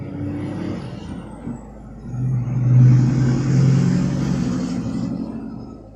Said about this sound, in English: There's a truck passing by.